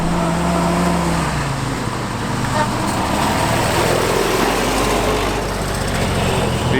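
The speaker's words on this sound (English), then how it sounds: "He's doing like a 50 million point turn in the Jeep" A 1945 Ford GPW Jeep engine runs steadily through a slow multi-point turn without power steering, a loud, continuous mechanical drone close by with no talk over it.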